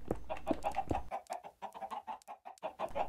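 Small chickens clucking at a coop, a busy run of soft overlapping clucks and chirps, close but fairly quiet with no talk.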